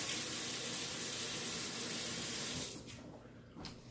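Kitchen tap running hard as a dropped cooking item is rinsed under it, a steady close splashing gush that cuts off near the end, leaving a faint clatter.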